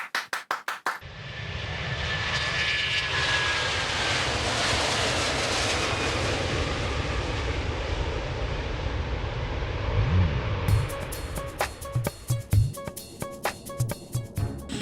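An airplane's engine roars loud and steady for most of the stretch, a broad continuous drone, with sharp knocks and clatter before and after it.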